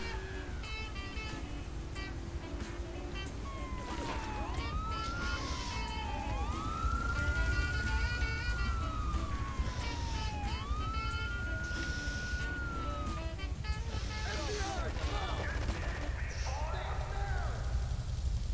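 A police car siren in Grand Theft Auto 3 wails and sweeps up and down at moderate distance over a low engine drone, with game sound effects in the background.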